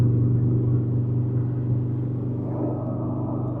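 A train rolls very slowly beneath a bridge near Namo Ghat in Varanasi, with people and vehicles crossing overhead, giving a steady, close, continuous low rumble and engine drone that holds level throughout.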